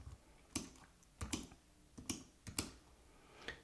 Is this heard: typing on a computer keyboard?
yes